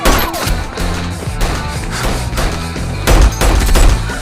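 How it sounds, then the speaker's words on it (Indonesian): Rapid bursts of gunfire crack during a police chase shootout in the film Baby Driver, over a loud, busy action soundtrack, with a heavy burst of shots near the end. "Aksi kejar-kejaran disertai baku tembak pun terjadi."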